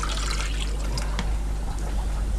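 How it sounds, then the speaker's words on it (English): Water pours steadily into a shrimp tank's standing water, a continuous splashing trickle with a low background hum. "pour it straight in the tank."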